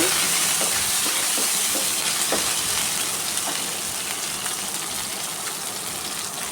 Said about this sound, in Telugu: పోపు వేగుతుందండి